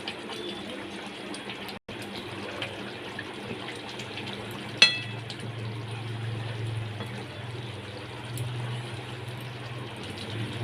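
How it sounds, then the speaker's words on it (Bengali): Two spoonfuls of mustard oil go into a pan of hilsa fish, eggplant and green chili, giving a soft, steady, close liquid pour with one brief clink midway. "এর মধ্যে আমি দু চামচ সর্ষের তেল দিয়ে দিচ্ছি"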